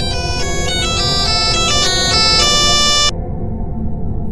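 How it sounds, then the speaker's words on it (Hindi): A mobile phone rings with a bright, looping electronic melody for about three seconds, loud and close, then cuts off, leaving a low background hum. "अचानक महेश का फोन बजा।"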